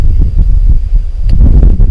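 Strong wind on a mountain backpacking trail at Grayson Highlands buffets the microphone with a loud, low, rumbling roar that gusts unevenly throughout.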